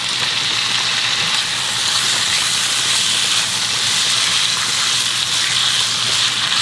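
Butterbur stalks stir-fry with chili powder in garlic- and scallion-infused oil, giving a loud, steady sizzle and hiss that continues unbroken throughout with no talking.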